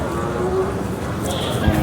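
A Khillar bull lowing at the Sangola cattle market, a single drawn-out moo heard close and clear over the constant murmur and bustle of the busy livestock market.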